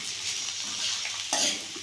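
Onions sizzle in a hot pan for an onion-tomato chutney, with steady frying hiss and soft stirring scrapes close by, growing brighter and louder near the end; no one speaks.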